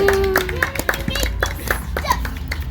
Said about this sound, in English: give them a round of applause for the 4th round